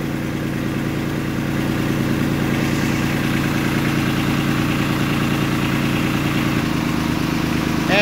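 A Kubota LX2610 compact tractor's engine idles close by with a steady, loud, even diesel putter that continues throughout, with a slight shift in tone near the end.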